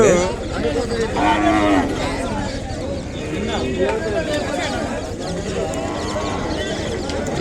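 Cattle, including a calf, low and moo in a busy weekly Ongole cattle market, with people talking over the animal calls and general crowd noise.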